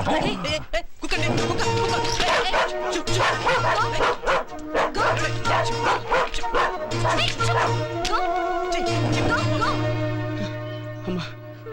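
A dog barks repeatedly in close, loud yips and bow-wows throughout, mixed with a steady background tone and some voices.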